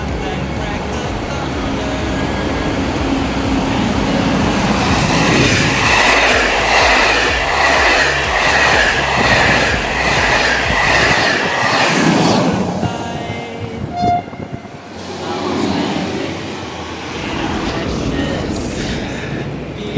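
A train departing Lyon Perrache station rumbles and clacks steadily along the rails, loud and close from inside the carriage, with a brief quieter stretch toward the end.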